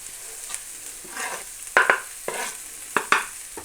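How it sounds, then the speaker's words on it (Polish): Nettle drops into two spoonfuls of melted butter in a frying pan, giving a soft sizzle broken by several sharp scraping stirs and clinks at irregular intervals; no voice. "Na patelni rozpuszczamy dwie łyżki masła, wrzucamy pokrzywę"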